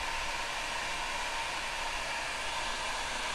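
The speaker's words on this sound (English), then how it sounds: "So I'm just hurrying the process with this heat gun." A heat gun blows steadily over freshly painted mirror work, a loud, even rushing hiss held close to the microphone without a break.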